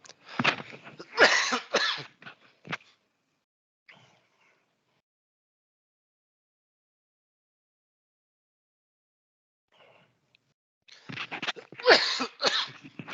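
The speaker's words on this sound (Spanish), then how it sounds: "La disculpa, pero ando con tos." Two bursts of harsh, repeated coughing, one at the start and one at the end, separated by a long stretch of near silence.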